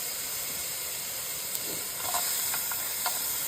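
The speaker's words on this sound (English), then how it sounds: "So I let it simmer for maybe like about maybe a minute or so." Ground beef with garlic and already-cooked red onions simmering in a pan, giving a faint, steady hiss with a few soft pops near the end.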